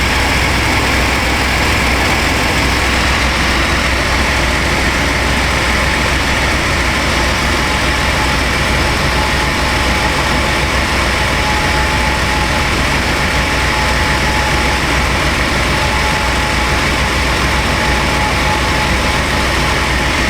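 A 1996 Chevy Astro van engine that runs rich idles steadily, a loud, even low rumble close by for about twenty seconds with no revving or breaks.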